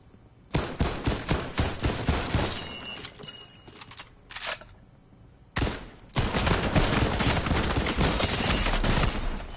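Fortnite gunfire: rapid bursts of loud shots cracking in quick succession, a short pause, then a sustained heavy stream of automatic fire, close and dominant.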